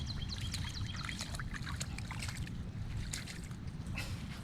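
A dog steps into a puddle on a walk, with continuous wet splashing and trickling water under a steady low outdoor rumble, nearby and moderately loud.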